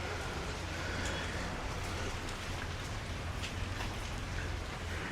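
Steady rain pours down around a rooftop in a dense, even hiss that stays constant throughout, close and moderately loud with no gaps.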